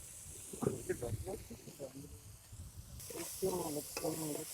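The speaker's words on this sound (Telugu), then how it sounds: "ఉల్లిపాయలు, మిరపకాయలు ఏగిపోయాయి." Onions and chillies fry and sizzle in a pan, a continuous hiss with stirring scrapes, while a voice speaks intermittently over the cooking.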